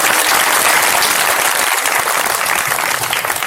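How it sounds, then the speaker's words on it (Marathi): A crowd at a kirtan festival claps loudly and continuously, a dense steady wash of applause that holds for several seconds without any voices. "आपण एकदा जोरदार टाळी वाजवा"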